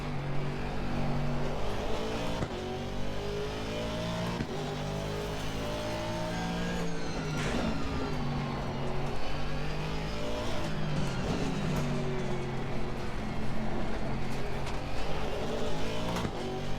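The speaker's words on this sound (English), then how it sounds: "Does sound nice, the Aston Martin." Aston Martin race car in Assetto Corsa Competizione roars continuously with rising and falling engine revs through gear changes, close and loud, with faint tire noise and no talking.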